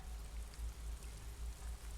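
Gentle rain in the video game Disco Elysium, a soft steady patter with a low rumbling wash underneath, faint and continuous throughout.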